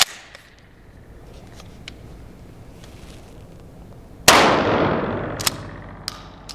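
A Remington 870 shotgun fires once outdoors, a loud sharp blast whose echo decays over a couple of seconds. It follows a quiet stretch with a few faint clicks, and several sharp cracks come later.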